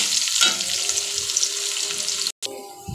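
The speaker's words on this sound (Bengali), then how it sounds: "পেঁয়াজটাকে ভেজে আমি লাল লাল করে নেব" Chopped onion fries in hot oil for chicken biryani, a steady, loud hiss and sizzle close to the pan, with a brief cut near the end.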